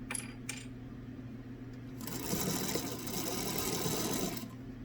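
A sewing machine stitches a seam along a fabric mask with white thread, its motor whirring in a steady close buzz that rises after a couple of quiet seconds, with a few small clicks at the start.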